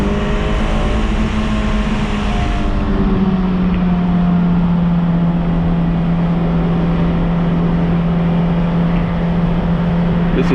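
A 2007 Honda S2000's engine drones steadily and loudly, its pitch sliding smoothly up and down as it revs, with no voices.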